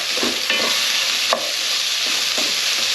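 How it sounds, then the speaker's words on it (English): Sliced onions hit a pan of seared, browned pork, producing a loud, dense sizzle with a few soft knocks of a utensil and one sharper clack midway. "Now when that pork's nice and seared and brown, put in your onions"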